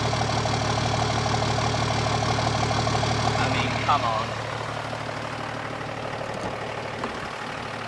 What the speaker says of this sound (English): Let me give you the exhaust note out here.